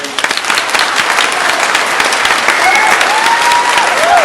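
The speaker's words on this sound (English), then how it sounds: "the court reporter can't hear over the applause." Loud, sustained audience applause filling a crowded public meeting hall at an Illinois EPA hearing on a Sterigenics permit, dense clapping throughout with faint tonal squeals rising near the end.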